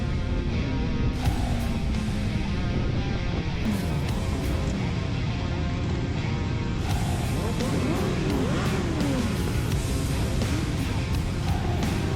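Motorcycle engines roar in a closing-of-season group ride near Vinnytsia, a dense, continuous rumble with rising and falling revs from several bikes passing close by throughout.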